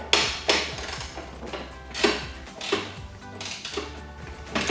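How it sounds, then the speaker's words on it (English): Sharp metallic clanks and ratcheting taps sound in irregular bursts while U-bolt nuts are tightened on Jeep Wrangler TJ RedRock molded ABS side step bar brackets, close up and without talk. "So I'm tightening up the U-bolt nuts here."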